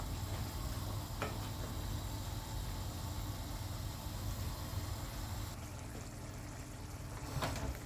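Vegetables cooking in a pan being stirred, a steady close sizzle and bubbling with occasional scraping stir sounds, no talking.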